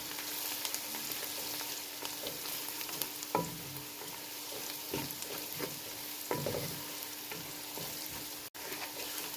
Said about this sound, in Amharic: የደረቀ ጥቁር ማለት ነውና በደንብ አድርጌ አማስለዋለሁ ማለት ነው።